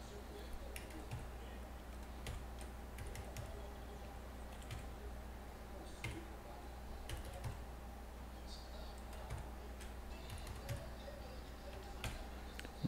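Someone types a password on a computer keyboard, producing faint, irregular key clicks in short bursts against a quiet room hum.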